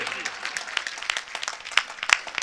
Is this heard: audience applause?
yes